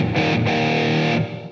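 Heavy, crunchy distorted electric guitar tone run through an Avid Eleven Rack, a single sustained chord ringing loud and alone before trailing off.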